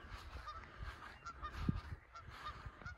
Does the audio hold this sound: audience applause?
no